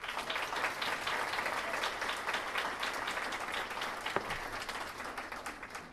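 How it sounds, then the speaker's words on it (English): An audience at a ceremony for top high school seniors in Newark applauds the mayor, with steady, sustained clapping from a crowd at moderate distance. "give our great mayor a big"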